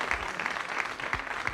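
A studio audience on a 1992 Turkish TV quiz show claps briefly for a contestant, a short, moderately faint burst of scattered hand claps.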